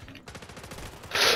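Call of Duty automatic gunfire, a fast rhythmic run of shots at moderate loudness, ending in a brighter, louder burst.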